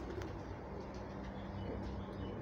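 Pigeons coo softly in a loft amid a dense, continuous background murmur, their calls low and blended rather than distinct.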